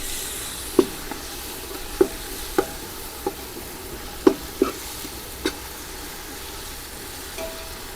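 Ginger garlic paste sautéing in a pan for chicken biryani: a faint steady sizzle beneath sharp, irregular spatula taps against the pan, roughly seven of them, with no talking.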